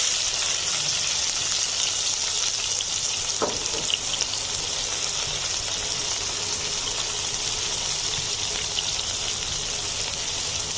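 Chopped garlic, four cloves, fries in a pan for Korean dumplings, giving a steady, even sizzle and crackle throughout with no talking.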